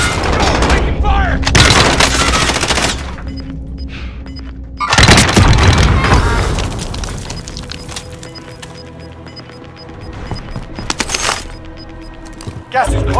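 Gunfire in the video game Call of Duty: Modern Warfare, loud bursts of shots with sharp cracks between quieter stretches, heard alongside game voice callouts.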